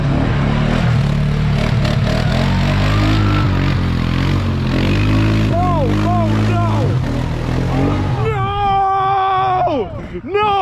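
A dirt bike engine drones and then revs in sharp rising-falling bursts as it rides through mud on a trail, loud and close, with people talking over it.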